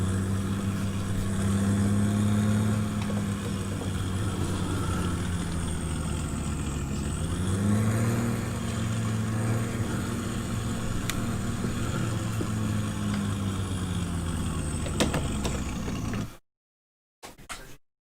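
A farm vehicle engine in Farming Simulator 17 runs steadily at a low, droning idle for about sixteen seconds, with a slight rise in revs midway, then cuts out abruptly into near silence.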